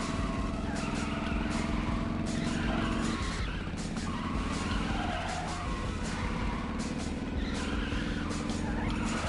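Game cars in LittleBigPlanet 3 skid and race past in a loud, unbroken wash of engine drone and tire screech, with squeals swelling and fading several times.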